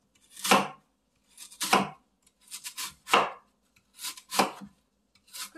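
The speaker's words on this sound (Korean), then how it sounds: "얇게 썰어 넣을게요." Six crisp knife chops on a cutting board as lotus root is thinly sliced, spaced about a second apart with a few quick double strikes, close and clear with silence between.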